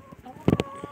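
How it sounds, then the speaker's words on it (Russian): A large, heavy hen of mixed breed clucks close by in a backyard coop, giving a quick cluster of short, loud clucks and then a few softer ones. "Она, по-моему, у нас вообще самая мощная курица, самая широкая, самая пышная."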